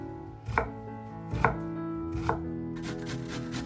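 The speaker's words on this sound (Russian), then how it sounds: "Четыре средних луковицы нарезаю мелким кубиком." Three sharp knife chops dice onions on a cutting board at an even, unhurried pace, followed by lighter, quicker cuts near the end. Background music plays throughout.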